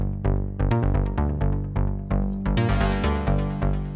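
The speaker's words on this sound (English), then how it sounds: "together they sound like this with bassline" Melodic techno loop of synth strings washed in reverb and delay over a pulsing bassline, with steady repeating rhythmic stabs, loud and upfront with no voices.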